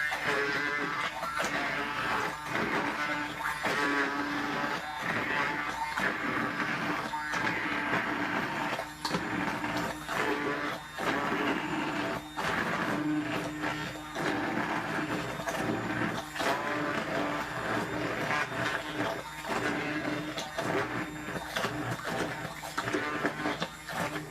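A blender motor whirs continuously at a steady, moderate level for a long stretch, blending roasted butternut squash soup, with occasional small shifts in pitch.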